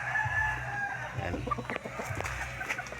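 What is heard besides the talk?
rooster crowing and clucking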